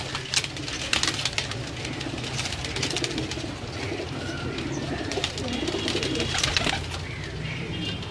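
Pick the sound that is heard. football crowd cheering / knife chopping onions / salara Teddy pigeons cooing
salara Teddy pigeons cooing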